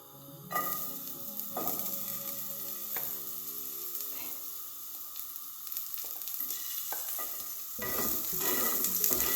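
Garlic and carrot fry in a pan for Caribbean-style cooking, a steady close sizzle with a stirring utensil scraping and clinking now and then, the frying growing louder toward the end.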